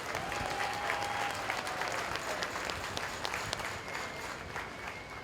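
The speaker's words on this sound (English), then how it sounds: "if we could we please give all these exhibitors a real nice round of applause out here" A crowd at a 4-H and FFA market lamb show at the Lawrence County Fair in Ohio gives a sustained round of applause, dense steady clapping heard from some distance with a faint tonal whine behind it.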